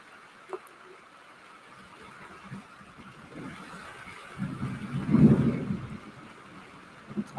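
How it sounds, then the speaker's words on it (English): Thunder rumbles during a passing thunderstorm with heavy rain, a low swell building and peaking mid-clip before fading, over a steady hiss of rainfall with a few sharp knocks. "Heavy rain."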